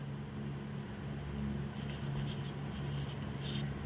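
Pen scratching across paper while a yantra diagram is drawn, soft and steady under a constant low hum and broadband background noise.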